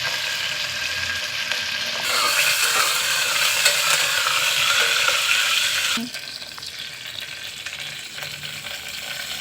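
Green chilli pieces drop into a hot pan of cooking khichdi, setting off a loud, steady sizzle that swells after a couple of seconds and eases again later, with no voices.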